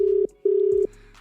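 A telephone ringback tone on a call, two steady electronic tone bursts separated by a short gap, clear and close, with no talking.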